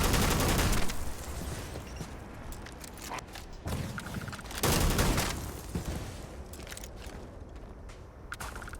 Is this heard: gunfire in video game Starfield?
yes